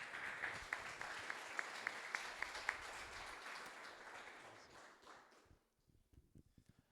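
A church congregation applauding during a worship service, a steady crowd of clapping with a few sharp, evenly spaced claps on top, fading out to scattered light taps.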